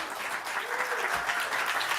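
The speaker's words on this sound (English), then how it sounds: "give Jay a round of applause" A comedy-club crowd at a stand-up showcase in Portland claps steadily and densely for about two seconds. It is a full, even wash of applause with no talking over it.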